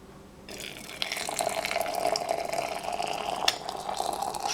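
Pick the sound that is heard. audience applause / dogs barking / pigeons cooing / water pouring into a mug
water pouring into a mug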